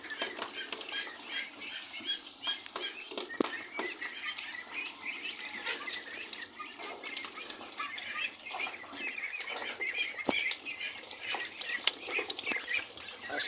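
Ducks splash and flap their wings while bathing in water on a rooftop, giving a steady run of close, busy wet flutters and patter throughout with no talk.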